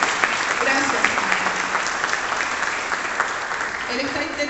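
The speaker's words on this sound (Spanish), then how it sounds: "Esto es un aplauso de agradecimiento." Sustained applause from a church congregation during a live worship service, a dense, steady wash of clapping at moderate loudness that continues throughout without pause.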